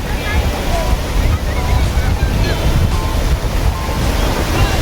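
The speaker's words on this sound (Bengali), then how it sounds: "ভালোই ঢেউ আসছে পরপর পরপর" Loud, continuous roar of sea waves breaking close by at Bakkhali beach during rising tide, with heavy wind buffeting the microphone throughout.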